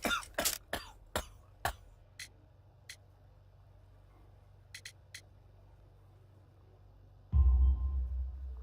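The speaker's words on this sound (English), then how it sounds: "You have a severe cough." A coal-dust-afflicted worker character in Sherlock Holmes: The Devil's Daughter coughs harshly in a quick cluster of sharp, close bursts, followed by a few sparse coughs and then a low rumble.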